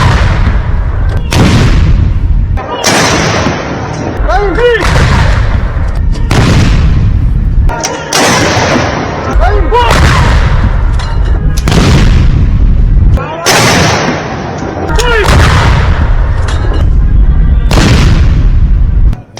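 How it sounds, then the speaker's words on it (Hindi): Ceremonial artillery firing a 21-gun salute during a Republic Day rehearsal: loud, heavy booming blasts repeat at a steady interval of about two and a half seconds, each with a rolling echo. Voices can be heard faintly between the shots. "21 तोपों की सलामी की तैयारी की जा रही है"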